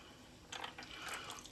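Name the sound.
melted margarine being poured over a turkey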